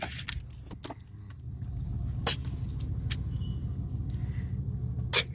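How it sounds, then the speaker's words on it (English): A Chevy Impala's engine rumbles low and steady nearby as it creeps forward with bad brakes, with scattered clicks and rattles over the drone. "I'm going to go ahead and move my truck a little bit so we can pull it forward"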